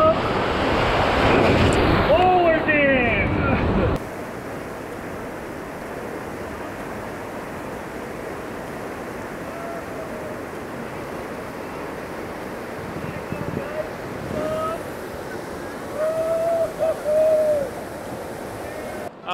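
Continuous rushing roar of man-made, adjustable whitewater rapids at Riversport Adventure Park in Oklahoma, with wind buffeting the microphone and faint, distant voices calling out over the churning water.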